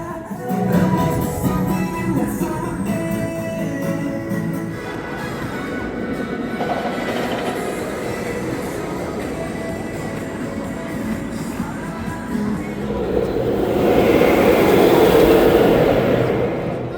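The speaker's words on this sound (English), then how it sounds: "Empty train, I don't like that." Empty theme park coaster train at SeaWorld Orlando rolling past, a steady broadband rumble of wheels on track lasting many seconds, swelling louder near the end as it comes closer.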